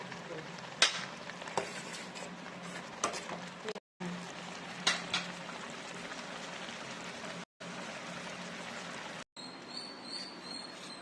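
Chicken majboos is stirred in a pot, giving a steady sizzling, scraping bustle with soft clinks, close and moderately loud across several stretches broken by brief silent cuts.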